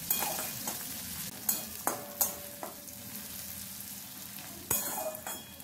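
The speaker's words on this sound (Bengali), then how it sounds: "পেঁয়াজটা বেশ যখন এরকম ভাজা হয়ে যাবে" Chopped onion sizzles steadily in hot oil in a pan for a jackfruit curry, with a few sharp scraping clicks as it is stirred.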